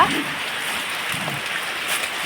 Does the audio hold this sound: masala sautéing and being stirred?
no